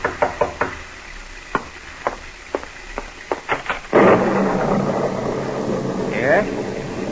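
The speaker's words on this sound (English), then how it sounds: "you're startled by a knock on the door" A radio-drama sound effect of knocking on a door: a series of sharp, solid raps in uneven clusters, followed by a room-tone rumble and someone speaking.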